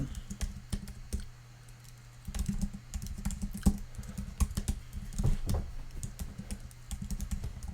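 Code is typed on a computer keyboard in quick, uneven bursts of close, crisp key clicks, with brief pauses between runs. No voices are heard.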